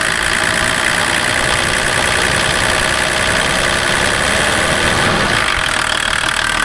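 A tired Volvo 740 with the D24TIC turbo diesel idles with a steady, loud, slightly uneven rumble and shaking vibration, close to the engine and with no talk.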